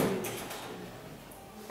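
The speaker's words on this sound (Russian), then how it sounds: "Я все-таки закрою дверь" A door closes with a short, sharp thump at the very end, after a stretch of quiet room tone in a lecture room in Abramtsevo.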